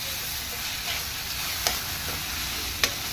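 Fried grated beetroot and grated coconut stirred in a pan: a continuous loud sizzle with scraping strokes and two sharp spoon clicks against the pan, close up with no voices.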